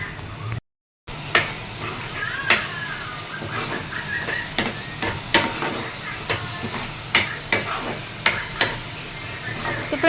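Tomato, onion, green chilli and garlic gravy frying in a pan, a steady close sizzle with repeated sharp clinks and scrapes of stirring, with a short drop to silence near the start.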